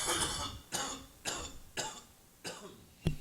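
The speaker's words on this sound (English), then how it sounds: "Just mentioning coughing makes him cough." A man coughs five times in a row, harsh and close, with short regular gaps between the coughs and a sharper final one.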